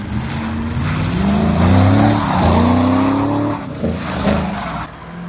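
A 2021 Ford Mustang EcoBoost driven hard on an autocross course with traction control off, its engine revving up and down loudly while tires squeal in long sustained wails.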